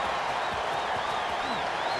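Crowd cheering in the EA Sports College Football 26 video game after a punt return: a dense, steady roar with whistles rising and falling above it, continuous and loud throughout.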